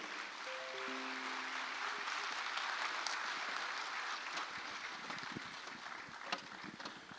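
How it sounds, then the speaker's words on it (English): Steady, dense applause from a summit audience at the Africa Social Impact Summit 2025 fills the whole stretch, a broad wash of clapping that holds at a fairly even level throughout. "keep the applause going for Peju Ibekwe"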